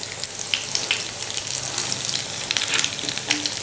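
Potato kababs fry in a pan over a medium flame, a bright, busy sizzle with crisp pops and spatters, loud and close for the whole moment, no speech.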